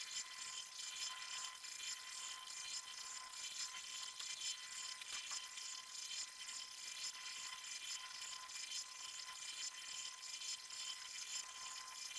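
Timer alarm ringing steadily during a school chemistry reaction-rate practical, a continuous high-pitched electronic tone sustained for about twelve seconds, moderately loud with no speech over it.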